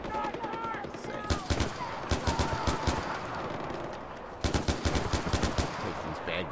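Rapid bursts of gunfire from shooting enemies in Far Cry 4, loud and close, coming in clustered volleys with brief lulls between them over a steady game backdrop.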